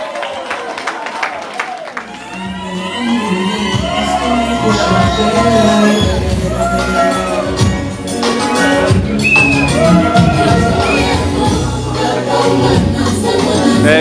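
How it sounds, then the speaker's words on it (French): Loud, sustained applause and cheering from wedding guests celebrating the couple, a dense roar of clapping with shouts and excited voices mixed throughout. "Un tonnerre d'applaudissements s'il vous plaît."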